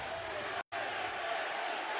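A WWE Raw arena crowd roars continuously in a loud, dense wash of cheering and shouting. The sound drops out for a fraction of a second, then the roar resumes at full strength.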